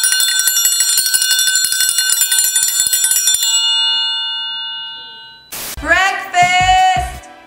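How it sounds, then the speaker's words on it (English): A breakfast bell rings rapidly and loudly for several seconds in a home, then fades out. A voice follows. "When the kids have a hard time waking up, we ring the breakfast bell."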